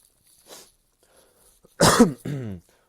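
A soft throat noise, then two harsh, close coughs in quick succession, the first loud and raspy, the second slightly shorter.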